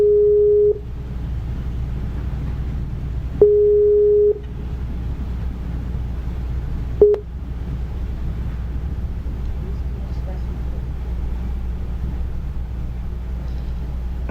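Steady repeating tones of a telephone busy signal after a dropped call, bursts near the start, around 3.5–4.5 s and briefly near 7 s, over a low hum, with lengthy gaps between.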